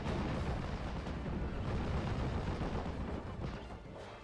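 Off-map artillery barrage in the video game Steel Division Normandy 44, a dense, continuous rumble of distant blasts rolling together into a heavy low roar for several seconds, without speech.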